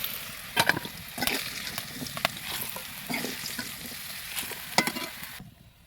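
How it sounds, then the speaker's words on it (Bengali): Cut potatoes frying and being stirred in mustard oil in a wok, steady close sizzling with scraping stir strokes throughout, no talking. "আলুগুলো একটু লাল লাল করে ভেজে দিব"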